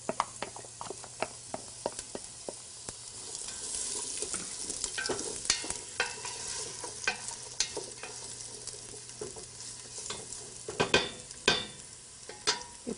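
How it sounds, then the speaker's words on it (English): Chopped onion, about one medium or small onion, sautés in a pan for Hungarian goulash, giving a steady close sizzle broken by frequent sharp scraping stirs and clatters throughout. "you add chopped onion. It's about a medium or small sized one chopped onion. And you saute it"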